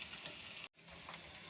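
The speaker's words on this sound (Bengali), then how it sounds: "পেঁয়াজটা ভালো করে ভেজে নেব।" Chopped onions sizzle steadily in a hot pan of oil with cardamom, cinnamon and a dried chilli for a chicken curry, a dense close frying hiss broken by one brief stir-like gap.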